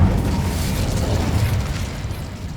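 Incendio cast in Hogwarts Legacy gameplay: a loud, sustained fiery burst with deep rumbling body that swells, holds for a couple of seconds, then eases slightly toward the end, no voices over it.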